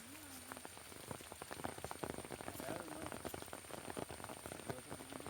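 Soft, even rainfall patters in a park, a close, continuous hiss of many small drops heard alone at low volume.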